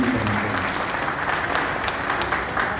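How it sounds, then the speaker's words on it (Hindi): A seated audience claps warmly and steadily to welcome a district president at a gathering of NGOs and residents' welfare associations, the dense applause holding an even level throughout with no speech over it. "ताली बजाकर अभिनंदन करना चाहिए।"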